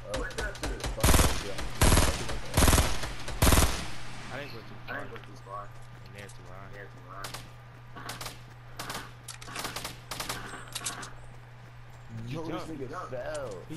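Rapid bursts of gunfire in Fortnite Battle Royale Season 3, loud and close for the first few seconds, then lighter scattered shots and clatter while players talk over the action.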